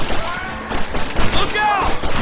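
Rapid gunfire in the Western shooter game Red Dead Redemption: loud bursts of shots and booming impacts crowd close together, with a voice shouting through the firefight.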